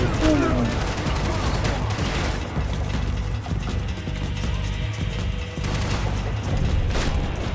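Gunfire in the video game Max Payne 3 forms a dense, continuous barrage of shots and booms that lasts throughout, with a player talking over parts of it.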